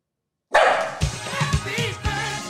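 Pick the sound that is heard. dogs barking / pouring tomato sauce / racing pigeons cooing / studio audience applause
dogs barking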